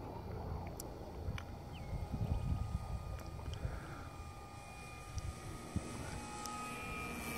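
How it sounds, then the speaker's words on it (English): A Funtana 125 RC model airplane makes a slow, low flyby, its engine a steady droning hum that swells a little as it passes mid-clip, heard outdoors at moderate distance with no talking. "Slow speed flyby."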